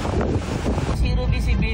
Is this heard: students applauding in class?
no